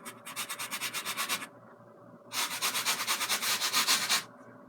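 Brush scrubbing liquid white oil paint onto a canvas in two bursts of quick, rhythmic back-and-forth strokes separated by a short pause, close and fairly loud with no talking.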